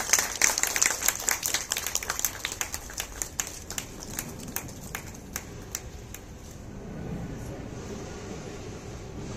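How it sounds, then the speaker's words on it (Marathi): Applause from staff at an office send-off ceremony, loud, fast clapping for several seconds that thins out and gives way to murmuring room noise and faint voices. "जरा जोरदार टाळ्या।"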